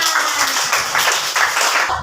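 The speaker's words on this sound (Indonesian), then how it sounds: "Nah, tepuk tangan." Children in a classroom coding lesson clap their hands, a steady close wash of clapping lasting about two seconds.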